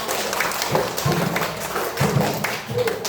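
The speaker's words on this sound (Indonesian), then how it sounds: "Oke, tepuk tangan buat kalian semua." A classroom of students applauds together during a teaching practice lesson, an even spread of clapping hands with a few dull thumps and some voices mixed in.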